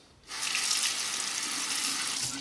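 Tap water gushes steadily into a sink while a double-edge razor is rinsed during a wet shave, starting abruptly and running close and unbroken.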